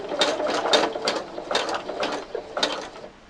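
CAYDO i1 Pro electric i-cord knitting machine cranking, a close ratcheting clatter of gears in repeated bursts about every half second, with no talking.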